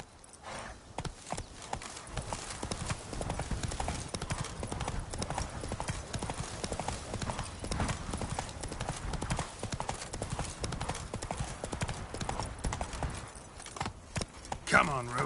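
Hooves of the horse Roach galloping in The Witcher 3 video game, a steady fast clip-clop rhythm running throughout with game ambience beneath.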